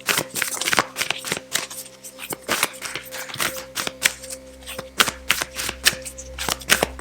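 Oracle cards being shuffled by hand for a tarot reading, a close, rapid run of papery riffles and slaps in uneven bursts, with no voice over it.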